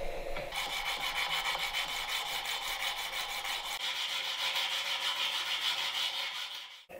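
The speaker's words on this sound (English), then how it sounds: "Let's keep sanding." A steel knife blade is sanded by hand, working toward 600 grit: close, rhythmic back-and-forth scraping strokes repeat at an even pace, then stop abruptly near the end.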